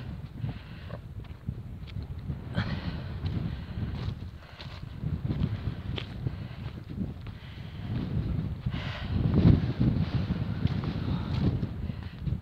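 Wind buffeting the microphone on a moorland hilltop near Black Hill, Yorkshire, a continuous low rumbling gusty roar that swells and fades, with faint footsteps underneath.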